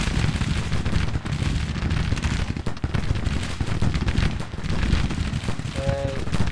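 Enemy gunfire rattles in a Confederate war game trench fight, a loud, dense, continuous barrage of rifle and machine-gun shots with booming blasts mixed in, up close and relentless.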